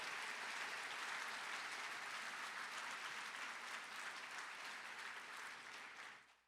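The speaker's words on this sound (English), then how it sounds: "So a round of applause for James and all he's done" Audience applause at a Cal State LA university convocation, a sustained, even roar of many hands clapping that continues for about six seconds and then fades quickly to quiet.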